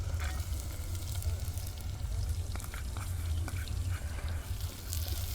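Onions frying in oil in a clay pot over a wood-fired stove, a steady low sizzle with scattered crackles and pops, fairly quiet and continuous.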